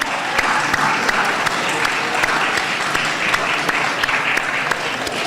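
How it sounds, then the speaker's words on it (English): At a school signing-day event, an audience claps for students taking their seats: loud, sustained, many-handed applause with sharp individual claps standing out, steady from start to finish. "Let's give these young persons a round of applause as the final ones take their seat"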